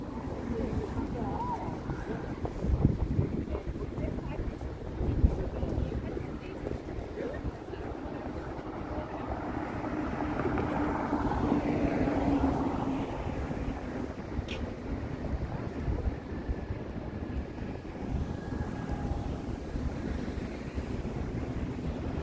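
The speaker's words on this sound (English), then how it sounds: "A bit windy now and again." Gusty wind buffets the microphone in a low, continuous rumble that swells and eases, with faint background sounds throughout, on a wet autumn evening in Toronto.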